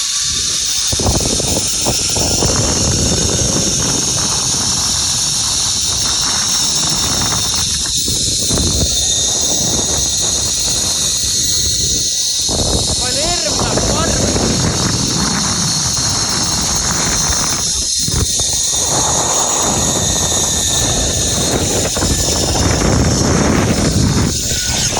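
Strong wind blowing outdoors on a summer family trip, a loud continuous roaring hiss with gusty surges and buffeting across the whole stretch.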